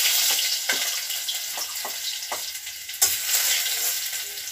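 Garlic frying alone in very hot oil in a village kitchen, heard as a bright, steady close sizzle broken by occasional soft thuds and scraping from stirring, with a sharper clack near the middle.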